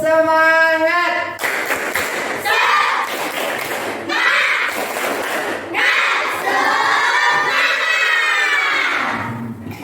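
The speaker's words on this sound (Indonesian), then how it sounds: "Yo, tepuk semangat." A group of children shouts a loud spirit cheer in bursts, with rhythmic clapping and crowd-like yelling filling the space, a single sustained voice calling out at the start.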